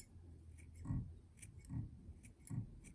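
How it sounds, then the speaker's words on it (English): Scissors snip fly-tying material held in a vise, three quiet, soft cuts spaced about a second apart in a near-silent room. "you can come in with your scissors in the vise, and you can really get in there"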